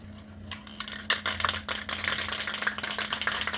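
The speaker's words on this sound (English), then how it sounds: "You ain't gotta get aggressive with it, just kind of scuff it." Hand sanding with 800-grit paper scuffs an upper control arm from an S10 truck before painting, producing close, uneven scratchy strokes in quick irregular bursts over a faint steady hum.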